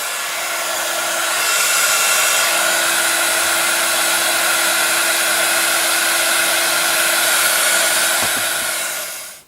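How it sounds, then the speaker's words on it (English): A heat tool blows hot air over a decorated old glass coffee jar, a loud, steady rushing whoosh that holds for several seconds and cuts off at the end. "I started off with that heat tool. I think I'm going to go with a noisier one now."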